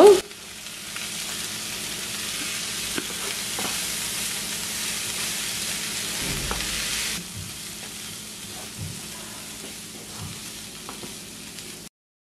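Maldive fish sambal mixture is stirred in a pan over a steady, close frying sizzle. Occasional soft spatula taps come through, and the sizzle drops noticeably quieter partway through before stopping.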